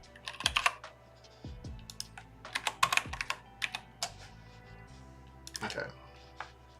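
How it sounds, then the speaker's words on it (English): Bursts of typing on a computer keyboard, close and fairly loud, with irregular clusters of key clicks and pauses, practicing in the Neovim editor. "My typing is now terrible because my fingers are tired."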